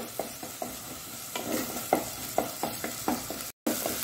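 A Mangalorean prawn ghashi mixture frying in a pan, with a steady sizzle broken by a series of sharp spoon scrapes and stirs, close and clear, with no voices.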